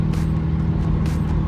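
Car engine humming steadily from inside while driving toward a gas station, a low continuous drone with faint road noise, brief and without talk.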